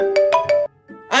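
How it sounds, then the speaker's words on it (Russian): Phone ringtone signalling an incoming call, a bright three-note melodic tone repeating quickly and loudly, cut off before a voice begins speaking. "кто мне звонит в такую рань?"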